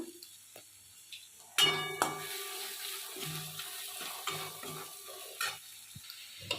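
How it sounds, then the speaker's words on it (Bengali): Spices with coriander powder being stirred and fried (bhuna) in a pan, with intermittent scraping stirs and a soft sizzle, close and moderately quiet with no talking. "মশলাটাকে ভালো করে কষে নেব ধনে গুঁড়ো"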